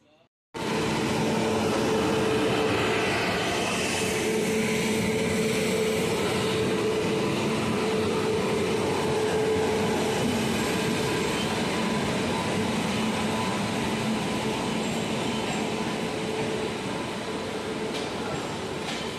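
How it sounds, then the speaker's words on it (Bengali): Inside the Prayagraj to Howrah special train as it leaves Burdwan Junction station at night, a steady rolling rumble and hiss carry on evenly after an abrupt start. "আমাদের সামনে দাঁড়িয়ে যাচ্ছে মিথিলা এক্সপ্রেস, আর আমরা এখন ছেড়ে দিচ্ছি বর্ধমান জংশন স্টেশন।"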